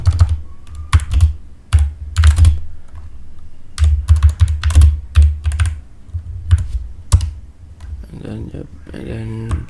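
Keystrokes on a computer keyboard in bursts of rapid clicks with short pauses, close to the microphone, while someone enters commands during OSS server hardening; a voice briefly speaks near the end.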